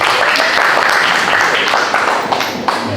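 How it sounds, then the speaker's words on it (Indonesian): An audience at a photography workshop applauding: a dense, loud, continuous wash of many hands clapping that holds steady for the whole stretch, with a few claps standing out near the end. "Ya, silakan yang belum tepuk tangan."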